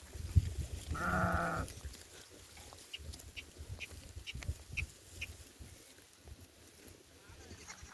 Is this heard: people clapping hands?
no